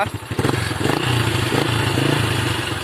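A Honda Wave 110i motorcycle, left parked for a month, starts and settles into a steady, fairly loud idle with a low, even engine hum and some mechanical clatter close by.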